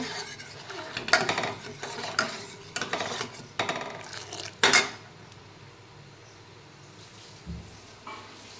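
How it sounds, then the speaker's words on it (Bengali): A utensil stirs milk being thickened in a pot, giving several clinks and scrapes against the metal with a louder knock near the middle, then fading to a quiet simmer. "দুধটা আমি এখন ঘন করে জাল দিয়ে নেব"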